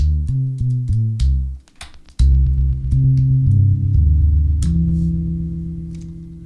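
Electric guitar played through a Lexicon Primetime M93 vintage delay: plucked notes repeat in echoing trails, a short phrase followed by sustained notes that decay slowly, loud and alone.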